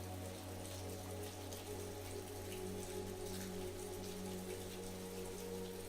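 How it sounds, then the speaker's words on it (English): Quiet, steady rain patters continuously at a distance, mixed with a low constant hum. "The rain outside continued to fall"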